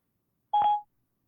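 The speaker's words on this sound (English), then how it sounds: "maybe we won't call Carl because my phone won't call" A single short touch-tone beep from a phone being dialed, lasting under half a second and heard alone against silence.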